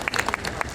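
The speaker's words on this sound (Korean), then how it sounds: "다시 한번 큰 박수 부탁드립니다" Audience applause at a Korean ceremony held on a cold day, heard as a short burst of scattered clapping. It is dense and steady, with individual claps standing out and no voices.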